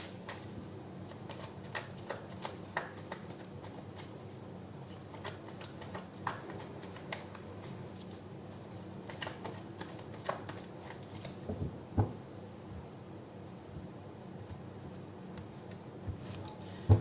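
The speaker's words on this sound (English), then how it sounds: "take out 4 cards from here after I finish shuffling." Steady papery riffling of tarot cards being shuffled, with occasional soft taps and flicks, close up and continuous with no talking.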